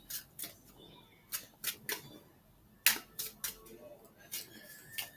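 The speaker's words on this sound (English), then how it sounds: "Staring off into the distance, shuffling these cards." Tarot cards being shuffled by hand in a quiet room: a series of crisp, sharp riffling snaps and taps in irregular bursts, close and fairly soft, with no talking.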